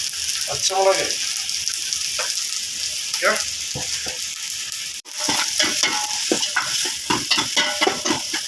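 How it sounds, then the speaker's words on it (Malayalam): Chopped onion, garlic, shallots and green chilli stirred in hot oil, a loud continuous sizzle broken by repeated scraping strokes of the spoon, close up and with no talk. "ഇത് നല്ലോണം ബ്രൗൺ കളർ ആവുന്നത് വരെ നല്ലോണം ഇളക്കി കൊടുക്കുക."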